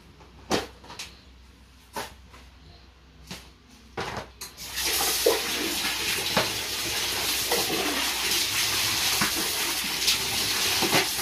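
Neem leaves are washed by hand as tap water pours steadily into a sink. Several clacks and handling knocks come first, then the water rushes continuously and fairly close.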